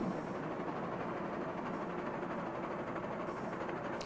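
A Big Boy steam locomotive hauling heavy freight up the steep Wasatch mountain grades in Utah, heard as a dense, unbroken roar and rumble that holds at a steady loudness throughout.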